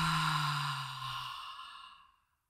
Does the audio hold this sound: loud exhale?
yes